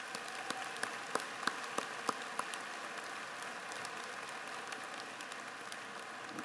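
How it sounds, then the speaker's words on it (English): An audience at a community college graduation ceremony applauds, with faint steady clapping and a few sharper individual claps standing out early on, heard from a distance. "Let's give those people a round of applause."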